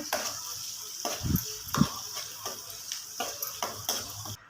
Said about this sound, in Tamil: நல்லா வெங்காயம் வந்து கலர் மாறுற அளவுக்கு வந்து நல்லா வதக்கிக்கலாம்